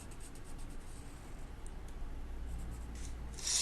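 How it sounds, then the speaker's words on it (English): Colored pencil drawn along a ruler to connect plotted points on paper, a steady soft scratchy stroke lasting several seconds, close and quiet, growing slightly louder near the end. "If I get a ruler and I get maybe a colored pencil, line them up. We connect all the points."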